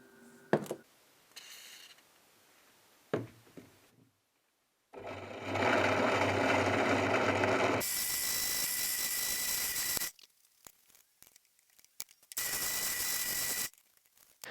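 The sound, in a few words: drilling metal with Bosch metal drill bits and cutting oil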